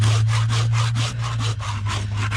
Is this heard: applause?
no